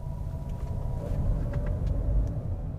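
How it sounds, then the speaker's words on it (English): Gasoline engine of a 2020 Honda CR-V Hybrid starting up while driving, a steady low rumble that swells slightly under constant road and cabin noise, with no talk. "the gasoline engine kicks in"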